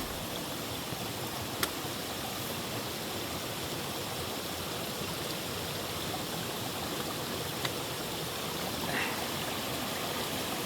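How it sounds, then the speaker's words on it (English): A creek on a hiking trail washes over rocks in a steady, close broadband rush that carries on without pause, with a couple of faint clicks and no talking. "I think I'm just gonna have to walk the creek."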